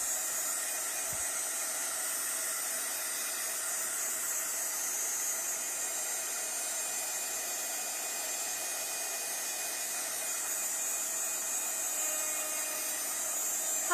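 A handheld heat tool blows steadily over watercolour paint, a constant close airy hiss and whine with no breaks, running alone for the whole stretch.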